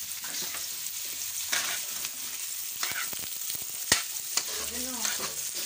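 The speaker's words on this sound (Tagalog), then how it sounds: "So, naggisa-gisa siya. Ngayon, sibuyas, bawang, carrot." Onion, garlic and carrot sauté in hot oil in a home kitchen for pansit, a steady close sizzle broken by scraping spatula strokes against the pan.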